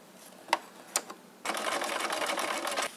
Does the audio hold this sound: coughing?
no